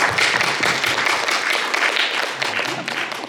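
Continuous applause from a church congregation at a Thanksgiving service, a dense steady patter of clapping that runs throughout with no pauses.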